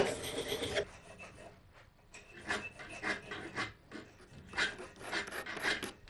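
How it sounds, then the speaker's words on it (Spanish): Woodworking tool honed on an oiled slate sharpening stone in a furniture workshop, with repeated close scraping strokes in a steady back-and-forth rhythm, moderately quiet and with no talk. "Esta piedra es una piedra de pizarra, normal y corriente, y a la cual se le echa un poquito de aceite para que resbale mejor la herramienta al asentarla"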